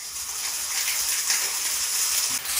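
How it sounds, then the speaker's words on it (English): A steady splashing pour of white wine into a hot pan, hissing continuously and fairly close, with no voices. "So I just put a little splash."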